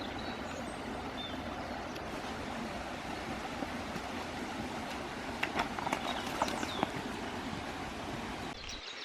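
A pony walks freely without a halter across open ground, its hooves clip-clopping at a steady pace over a constant outdoor background of wind or running water, with no talking.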